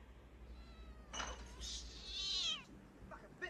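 A cat meows several times in a drawn-out, wavering way, faint and somewhat distant, set against low background hum from a film scene.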